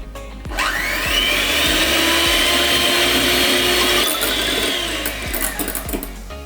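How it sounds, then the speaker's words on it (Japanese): An electric mixer whips egg whites with sugar, whirring loudly and continuously, its motor pitch shifting as it starts and as the speed changes, with brief clatters at the beginning and end. "ミキサーで泡立てていきます。"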